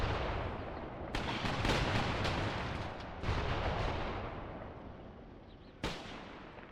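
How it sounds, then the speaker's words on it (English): Enemy artillery fire in the video game Mius Front, a few heavy booming blasts with rumbling decay and crackling bursts, distant and moderately faint, one last sharp hit near the end. "Especially when you've just been targeted by enemy artillery."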